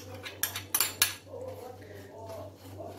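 A spoon mixes crushed biscuits with melted butter in a bowl, giving several close metallic clinks and scrapes early on, then softer scraping while someone speaks over it.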